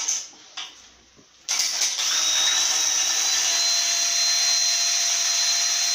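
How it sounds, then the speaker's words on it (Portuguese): Cordless power screwdriver running steadily at high speed on a window scaffold build, starting after a few faint knocks and holding a continuous loud whine close by. "Eu uso a parafusadeira. Vou mostrar aqui para vocês aqui."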